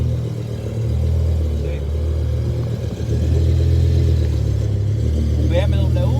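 A toy BMW M6 model with a simulated 5.0 engine of 507 HP produces a steady loud electronic engine rumble that swells into a rev partway through, with a voice speaking briefly over it near the end.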